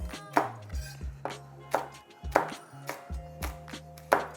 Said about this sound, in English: So just slice up your jalapeno.